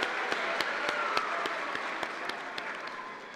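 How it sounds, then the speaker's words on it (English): An audience at the BBYO International Convention 2018 awards gala gives the conference organizers a big round of applause: dense, sustained clapping from a large crowd, fairly distant and even, with a few sharper claps standing out. "Will you all please join me in giving them a big round of applause?"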